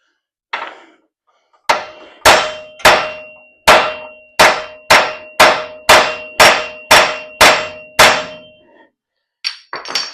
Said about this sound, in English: the age-old method of hitting it with two hard things